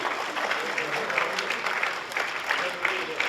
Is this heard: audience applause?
yes